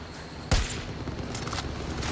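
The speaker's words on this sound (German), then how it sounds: "Ballern die auf den Bären oder schießen die irgendwo anders hin?" A single loud, close gunshot with a deep boom in the video game Far Cry 5, fired at a bear, followed by a lingering tail and faint distant shots over steady outdoor ambience.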